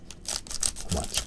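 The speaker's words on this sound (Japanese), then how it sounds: "はい、じゃあちょっとハサミで切りますので" Scissors cut open a Panini Revolution NBA 2022-23 hobby box of trading cards, a close series of crisp snipping clicks and cardboard crunches in quick, uneven succession.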